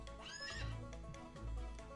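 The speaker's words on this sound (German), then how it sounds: "Ich habe ein Pferd gezähmt" A horse in the Western game Outlaws gives a loud, close whinny with rising and falling harmonics, then a second neigh follows, with faint hoof clip-clop underneath and no talk.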